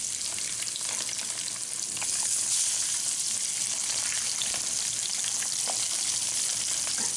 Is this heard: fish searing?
yes